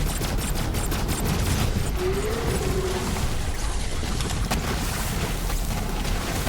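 Moze's weapon in Borderlands 3 fires rapid bursts of shots in the opening seconds, then gives way to a dense, rumbling game soundscape of booms and effects.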